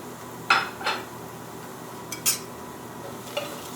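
A spoon mixes dried thyme, oregano and rosemary into a pot of cooked onions and garlic, making a few scattered clinks and scrapes against the metal over a faint background hum.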